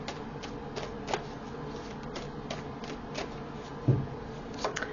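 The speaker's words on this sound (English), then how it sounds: "Let's pull some more cards here." Tarot cards being shuffled and pulled from the deck, giving soft papery riffles and flicks at an irregular pace, close and quiet, with one firmer tap partway through.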